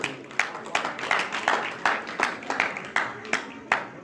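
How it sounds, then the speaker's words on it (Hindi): An audience clapping in a steady, rhythmic beat, about two claps per second, sharp and evenly spaced, moderately loud at a folk song performance, with no speech. "एक बार जोरदार ताली बजाओ,"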